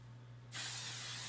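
Makeup setting mist sprayed in one short, close burst of fine hiss that starts abruptly and holds steady, alone after a quiet moment.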